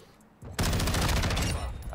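Burst of rapid automatic gunfire in the video game Modern Warfare 2, starting abruptly after a quiet moment and rattling loudly and continuously to the end.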